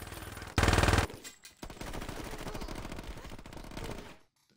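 Rapid automatic gunfire in the video game Saints Row 2, a loud dense burst followed by a long stretch of steady rattling shots that cuts off abruptly.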